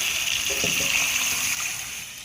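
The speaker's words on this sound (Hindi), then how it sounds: "और इसमें हम थोड़ा पानी डालेंगे" Water splashes and gushes steadily into a cooking pot of beef do pyaza for about two seconds, a continuous bright pouring sound that tapers slightly at the end.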